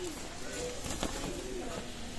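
Royal teddy pigeons, a running breeding pair, coo softly and steadily in a low, rounded murmur, close by with faint background noise.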